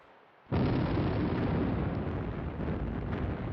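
German battleship guns opening fire at the Battle of Jutland in World War I: a sudden loud blast that rolls into a sustained roaring rumble of heavy artillery, with no voices.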